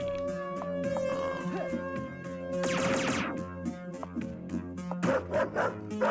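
Dogs barking in the video game Paradox Soul, several short yips and barks scattered over a steady background game music bed, with a burst of noisy action in the middle.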